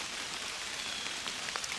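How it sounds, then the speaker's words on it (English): Rain falling in windy weather in the woods, a soft steady hiss of drops on surfaces throughout, faint and uniform with no voices. "because it's raining and it's windy"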